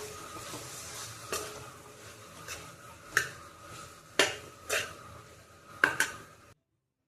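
Fenugreek dumplings being mixed into fried masala in a pan for a North Karnataka menthya unde recipe: a spoon scrapes and clinks sharply against the pan several times over a soft, steady sizzle, with no voices.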